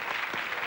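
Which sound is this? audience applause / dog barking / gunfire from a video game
audience applause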